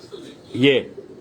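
Chapdi-breed pigeon kept on a rooftop loft, giving a single soft throaty coo over faint background noise, close by.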